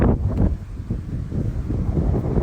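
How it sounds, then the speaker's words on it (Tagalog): Strong wind at a park buffets the microphone with a steady low rumble and gusting roar throughout, with no voices. "Lakas ng hangin."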